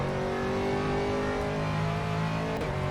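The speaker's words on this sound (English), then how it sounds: "Alright, Dan, there's a faster car approaching" A faster GT race car approaches in the rFactor 2 sim at Sebring while an Aston Martin GT3 runs, with a loud, sustained engine drone and rising revs close by and no voices.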